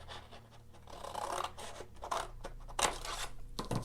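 Scissors cut through paper for an Easter basket craft, snipping in repeated close scraping strokes with no voices over them.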